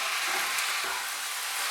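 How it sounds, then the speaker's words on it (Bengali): Eggplant and a fish head fry in a pan while being stirred for a Bengali ghonto, a steady close hiss of sizzling oil with faint soft scrapes, no voices. "দিয়ে বেগুন আর মাছের মুড়োটা ভালো করে মিশিয়ে নেব।"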